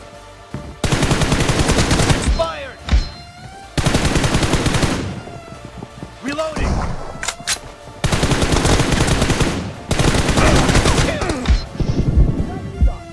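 Bursts of automatic gunfire in the mobile shooter BGMI during a team deathmatch, loud rapid volleys in several long strings separated by short pauses, with a faint voice underneath.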